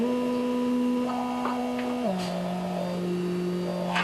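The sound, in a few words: synthesizer phase distortion tone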